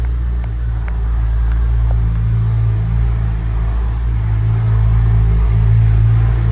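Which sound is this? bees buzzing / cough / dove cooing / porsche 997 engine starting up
porsche 997 engine starting up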